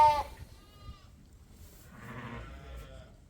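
A Dorset sheep bleats nearby, a wavering cry, followed by a second, softer bleat a moment later in a quiet setting.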